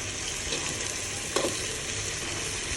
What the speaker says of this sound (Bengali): আর ওইদিকে কাঁঠালের বিচি দিয়ে লাল শাকের ডুগা আর ইলিশ মাছের মাথা দিয়ে রান্না হচ্ছে।